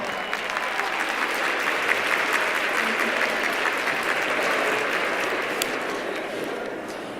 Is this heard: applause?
yes